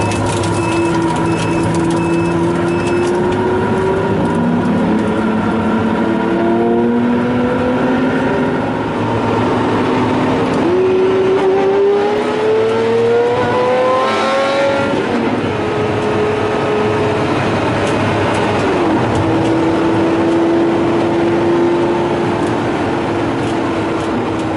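A Pagani Zonda 760RS accelerates hard through an industrial estate, its engine note climbing in several rising sweeps between gear changes, loud and sustained for the whole stretch.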